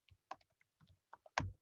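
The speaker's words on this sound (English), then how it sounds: "this is a lot of typing" Typing on a computer keyboard: scattered key clicks in an irregular rhythm, close and fairly quiet, ending with a heavier thump as a key is struck harder.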